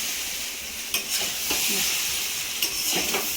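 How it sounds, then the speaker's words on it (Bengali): Chowmein with egg and chicken frying in a pan for breakfast, a steady hissing sizzle broken by a few clinks and scrapes of stirring, close by. "এখানে চাউমিন ভাজা হচ্ছে"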